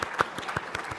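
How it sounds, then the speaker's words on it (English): An audience at a sponsors' gala claps briefly, a short scatter of hand claps at moderate distance, fairly quiet and uneven, with no talking over it. "I just want to give a round of applause for last year's sponsors."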